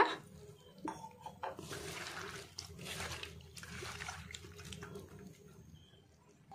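Running water splashes over bitter gourd slices during a kitchen rinse, a steady pouring and trickling with brief clatters from a bowl or pot, close by and moderately loud, no talking.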